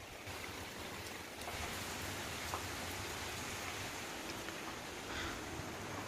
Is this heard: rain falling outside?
yes